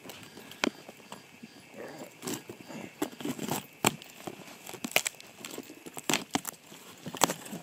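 Car keys scraping and tearing through packing tape on a heavy cardboard box, a series of sharp crinkling rips and scratchy bursts at an uneven pace, close and fairly quiet.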